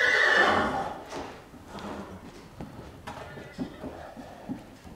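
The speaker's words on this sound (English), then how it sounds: "And another horse is coming over." A horse gives a loud, close whinny at the start, followed by softer snorts and scattered hoof thuds as another horse approaches, with faint background activity.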